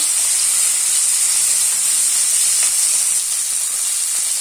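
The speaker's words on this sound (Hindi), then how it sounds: "लहसुन, काली मिर्च। थोड़े देर सभी को हम भून लेंगे।" Garlic, green chilli and black pepper fry in a pan for butter chicken, giving a steady, close, bright sizzle and hiss that holds evenly throughout with no voices.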